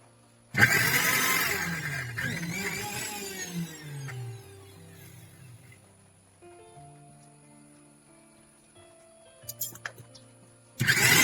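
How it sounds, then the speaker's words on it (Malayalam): A mixer grinder crushing curd with salt roars loudly for a few seconds, then winds down. A quieter hum lingers, and a short burst of grinding returns at the end. "തൈര് അത് ഒഴിച്ച് കുറച്ച് ഉപ്പിട്ട് മിക്സിയിൽ കുറച്ചൊന്ന് ചെറുങ്ങനെ ഒന്ന് ക്രഷ് ചെയ്തെടുക്കാം"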